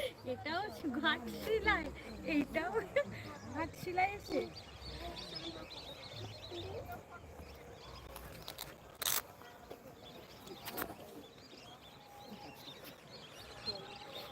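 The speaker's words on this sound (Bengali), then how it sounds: "পাখি উড়ে যাচ্ছে দলে দলে" Birds call at a sunset point in Ghatshila as flocks fly overhead. Bright chirps cluster in the first few seconds and fade after that, under quiet background chatter from people.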